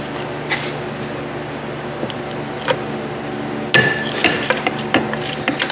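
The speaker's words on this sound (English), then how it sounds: "Ratchet's going the wrong way" A ratchet wrench working on a brake caliper bracket bolt of a Chevy Traverse, sharp metallic clicks and clanks over a steady background hum, growing busier and louder in the second half.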